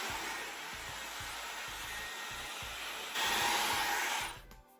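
A hair dryer blows steadily while hair is dried and combed down, a close, continuous airy roar that grows louder near the end before cutting off, with soft rhythmic handling bumps underneath.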